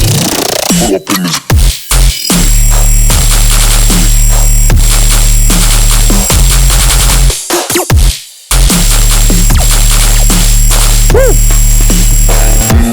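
A heavy gunshot-style bass synth drop with ring modulation, sustain and a higher octave pounds loudly with sharp percussive hits over a thick low bass bed. The drop breaks off in short gaps before slamming back in.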